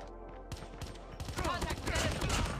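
Rapid gunfire from an HVK rifle in Call of Duty Mobile, a burst of shots followed by denser automatic fire, loud and close over game sounds, with a voice talking in the background.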